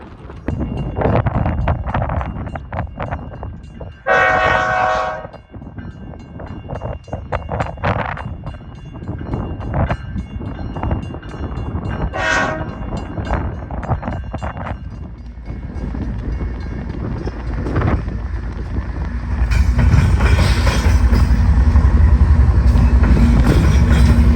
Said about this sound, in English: A southbound Bnsf 8268 has slowed for the Diamond to cross Union Pacific's Modoc subdivision